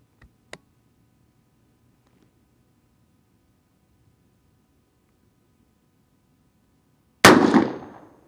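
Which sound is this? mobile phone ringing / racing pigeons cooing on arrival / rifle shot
rifle shot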